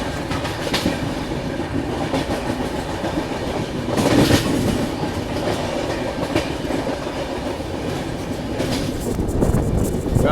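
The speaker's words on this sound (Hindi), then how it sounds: "आंध्र प्रदेश एक्सप्रेस 1 घंटे के डीले के साथ अपने सफर में आगे की ओर बढ़ते हुए।" Andhra Pradesh Express, running an hour late, rolls along the tracks on approach to Khammam station, its steady loud rumble and rhythmic clatter of wheels continuous throughout with a brief surge midway.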